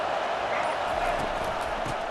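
Stadium crowd noise in EA Sports College Football 25, a broad, steady roar of cheering fans that holds evenly throughout, with a voice faintly underneath.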